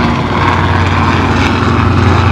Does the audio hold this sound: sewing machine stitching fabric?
no